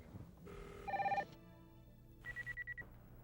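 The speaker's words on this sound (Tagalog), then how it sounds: "Nagriring na." A telephone rings during a prank call, two clear bursts of an electronic ring a moment apart, fairly close and loud over a quiet room, with no talking.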